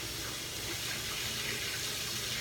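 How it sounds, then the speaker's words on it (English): Cold tap water runs steadily from a faucet over a burned hand in a home kitchen, a continuous close, broadband splashing rush lasting throughout with no talking. "Just hold it under cold water."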